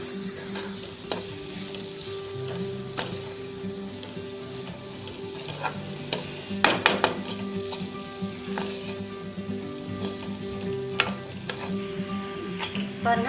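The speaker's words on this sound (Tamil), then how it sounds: "பாஸ்தா போட்டு நல்லா கிளறுங்க" Pasta is stirred through a sizzling pan of cooked vegetables, a steady close frying hiss with repeated scraping and clicking of the spoon against the pan, a few sharper knocks standing out midway.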